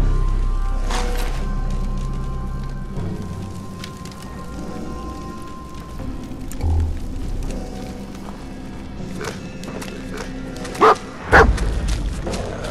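A dog in Fallout 4 barks a few times amid low rumbling game ambience, with two sharper, louder bursts near the end; fairly close and loud.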